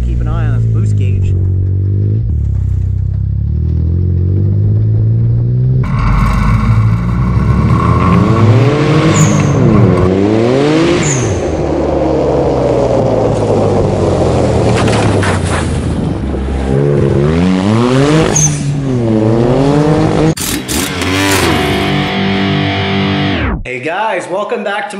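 A turbocharged Mitsubishi 3A92 three-cylinder engine in a dune buggy revs and accelerates hard with rising and falling engine pitch, loud and close, with a brief whine or whistle, then cuts off near the end.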